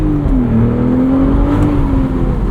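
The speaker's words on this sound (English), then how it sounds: "There is still a little bit of rev hang here" A 2025 BMW Z4 M40i with a six-speed manual holds a steady, droning engine note in the cabin, the revs hanging briefly and sagging slightly between shifts, loud and close, with no voices.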